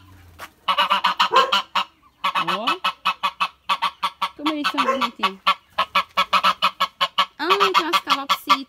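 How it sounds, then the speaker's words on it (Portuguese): Geese on a farm in the Sergipe backcountry honking loudly and repeatedly at close range, a rapid run of harsh calls with brief gaps, while someone speaks softly between them. "Tem os gansos."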